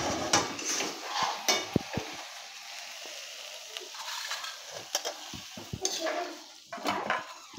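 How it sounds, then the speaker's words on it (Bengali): A spoon stirs a pot of bottle gourd ghonto cooked with a katla fish head, giving intermittent metallic clinks and scrapes against the pot over a faint simmer. "এবার নাড়িয়ে দেবো।"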